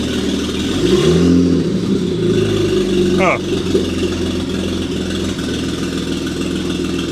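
A BMW 535xi E60 engine revs up and holds a steady mid-range drone, loud and close, with a brief rising whine partway through and a short spoken interjection over it.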